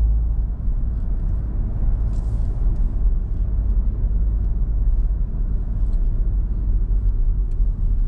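Car accelerating away through an intersection, a steady loud low engine rumble heard from inside the cabin, with no voices.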